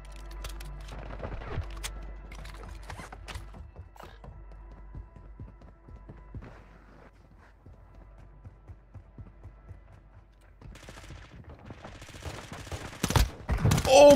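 Swarm submachine gun in Warzone Mobile fired in scattered, quick bursts of sharp gunshot pops among footsteps and game effects, building to a louder, denser volley near the end.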